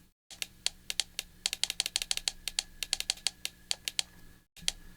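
Button presses on a Brasiltec irrigation controller while setting the date: a quick run of crisp, close plastic clicks in an uneven rhythm, fairly loud, with no talking.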